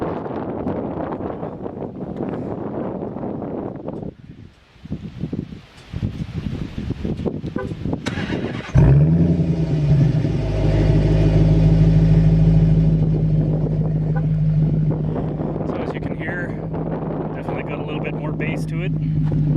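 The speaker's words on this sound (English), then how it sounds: "now we're just gonna go and see how this sounds with the Magnaflow exhaust installed." 2016 Dodge Challenger R/T with a 5.7 V8 and Magnaflow exhaust starts and drives; a deep rumbling engine kicks in midway and holds a steady low drone, while a voice talks early on over wind noise.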